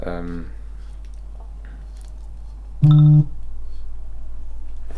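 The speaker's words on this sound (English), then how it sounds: "Oh, my phone's going off." A mobile phone briefly goes off with a short, loud electronic tone lasting under half a second, standing out over a steady low background hum.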